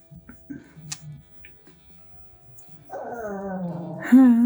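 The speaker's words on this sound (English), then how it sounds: "That's the puppy." A puppy whimpers and yips, starting with soft intermittent whines, then rising into a loud, sustained, wavering whine and bark near the end, close by.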